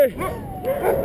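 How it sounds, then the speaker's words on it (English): A sled dog lets out a short yipping whimper and whining bark amid a dog-sledding team, close and loud, with a person talking over it. "Oh, that's a big dog."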